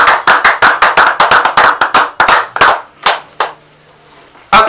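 Rhythmic hand claps, loud and close, come in a steady run of about a dozen sharp beats. They slow and fade to a final lone clap.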